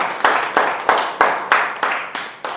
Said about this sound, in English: Maybe we give a clap to management on that support.